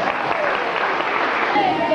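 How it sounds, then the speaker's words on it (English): An audience breaks into applause, a moderate, steady patter of clapping with a voice speaking over it. "Let's give her a round of applause, too."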